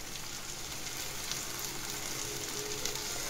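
Steady, dense sizzling of okra frying in hot oil, continuous and close, with no voices.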